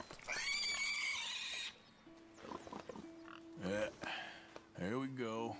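A horse in the video game Red Dead Redemption 2 lets out a long, loud whinny, followed by shorter snorts and neighs mixed with a voice speaking over the game sounds.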